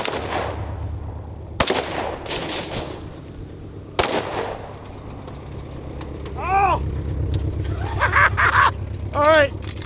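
A CMMG Descent rifle chambered in 7.62x39 fires at a car on a range. Two sharp, loud shots stand out in the first half, followed by ringing and rumbling noise, with short high whistling chirps near the end.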